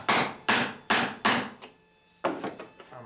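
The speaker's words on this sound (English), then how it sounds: "Hammer it on. Make sure the head's fairly well in." Hammer striking a rove driver to seat a copper rove onto a nail in a wooden clinker boat plank: four sharp ringing blows in steady rhythm, a pause, then a quicker cluster of lighter taps, close and loud.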